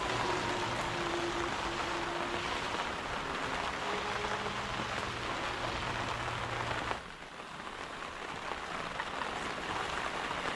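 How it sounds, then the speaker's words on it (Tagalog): Steady rain falls on a surface as a dense, even hiss over a low background hum, close and constant, then eases slightly toward the end. No voices are heard. "Nakalamig pa yung ulan, no?"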